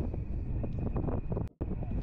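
Strong wind at the Titan Missile Museum buffets the microphone in heavy, continuous low rumbling gusts, with a brief drop to near silence before the roar resumes.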